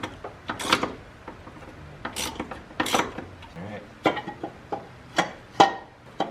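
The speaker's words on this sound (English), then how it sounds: "before we pull the intake out, we have to remove bolt" A hand ratchet clicks while loosening intake manifold bolts on a Chrysler PT Cruiser GT, with short uneven bursts of close metallic clicking and scraping separated by pauses.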